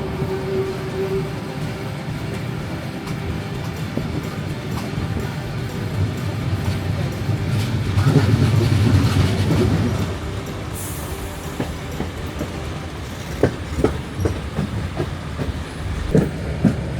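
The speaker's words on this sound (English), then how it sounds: "a beautifully preserved steam train journey through the Victorian goldfields." A vintage steam train runs along rails through the Victorian goldfields, giving a continuous rumble with swelling loudness and a rhythmic clickety-clack of wheels, then sharp clanks and squeals of metal toward the end.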